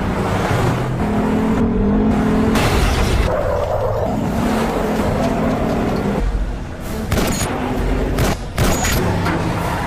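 Car engines and driving noise from an action film chase, with a vehicle following behind on the road back to town, a loud continuous roar with shifting revs and some sharp bangs toward the end.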